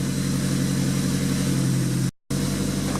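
A Mazda 6 engine runs at a steady idle, a close, even mid-pitched hum that cuts out abruptly for a moment before resuming.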